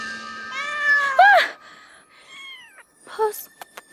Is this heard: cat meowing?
yes